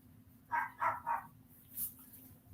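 A dog barks three times in a quick, evenly spaced run at moderate distance, followed by a fainter, higher yelp, with a low steady hum running underneath throughout.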